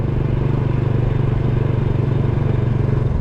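A small 110cc motorcycle engine runs steadily at a close, even idle-to-cruise pitch, a continuous throbbing drone with a rapid pulsing beat and no voices.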